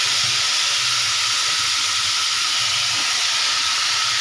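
Chopped drumstick, tomato, onion and chilli sizzle steadily in hot tempering oil for a curry, a continuous close hiss and crackle with no talking.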